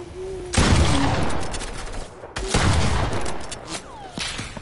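Bursts of gunfire in a multiplayer squad shooting video game, loud and dense, with two sustained volleys separated by a brief pause and a few trailing shots.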